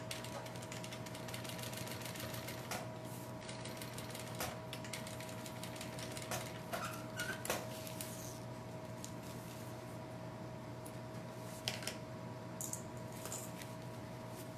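A sewing machine stitches a practical zippered pouch, a faint steady mechanical whir with a constant hum and light rhythmic ticking from the needle, close and quiet with no voices.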